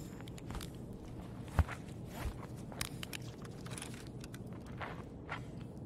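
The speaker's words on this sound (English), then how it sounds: "I know I hear footsteps." Footsteps in the video game Escape from Tarkov, quiet and scattered over a low background hiss, with a few soft thuds and one sharper knock partway through.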